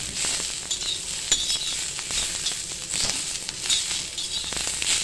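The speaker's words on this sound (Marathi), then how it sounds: "अशा प्रकारे आपल्याला छानपैकी हा मसाला आता चांगला भाजून घ्यायचा आहे" Masala spice powder dry-roasting in a pan sizzles with a steady soft crackle and occasional stirring scrapes, close and fairly quiet, no voices.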